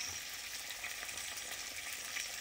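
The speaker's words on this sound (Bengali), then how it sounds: "আলুগুলো দিয়ে দেবো, দিয়ে একটু ভেজে নেব" Potatoes fry with black cumin seeds in an oiled pan on the stove, a steady, close, even sizzle with no voices.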